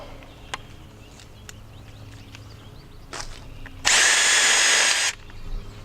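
A power drill on a waterfowl hunting blind frame, driving a set screw back in through a pre-drilled hole: a short, loud whirring burst of about a second after faint taps and handling noises.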